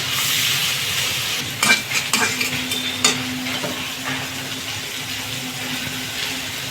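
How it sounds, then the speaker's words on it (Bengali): Prawns fry in oil in a pan until golden, a steady close sizzle broken by several sharp scrapes and clinks of a spatula stirring against the metal, with no talking. "গোল্ডেন কালার আসা পর্যন্ত একটু ভাজবো কালার আসা পর্যন্ত একটু ভেজে নিব"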